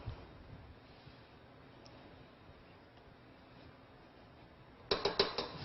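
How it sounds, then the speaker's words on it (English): A spatula scrapes down the paddle of a stand mixer for buttercream cake batter: a short burst of metallic scraping and clinking near the end, after several seconds of quiet room hiss. "I'm going to scrape down the paddle"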